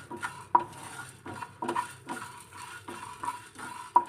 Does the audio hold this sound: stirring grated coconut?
yes